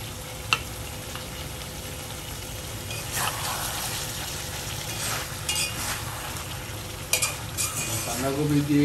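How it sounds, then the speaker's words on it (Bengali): Chopped cabbage is stirred into a pan of boiled chicken and potatoes, giving a steady sizzle under repeated scraping and tossing of a spoon, with a few sharp clinks and louder stirring bursts toward the end. "বাঁধাকপি দিয়ে একটু নাড়াচাড়া দেব"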